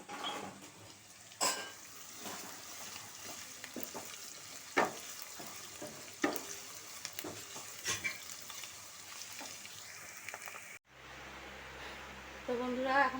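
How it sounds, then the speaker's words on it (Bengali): Meat sizzles in a pot with onion paste and ginger-garlic paste, a steady close hiss broken by repeated stirring scrapes and spoon clinks against the metal, with a brief change in the sound near the end. "তো এখন মাংসটা বসাবো আর কি।"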